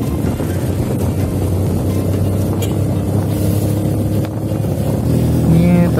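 A Benelli Motobi 200 Evo motorcycle engine drones steadily and loudly up close while riding along, with a low rumble and slight revving.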